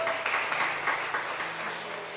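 Church congregation applause during a sermon, a soft, steady wash of many hands clapping at a distance.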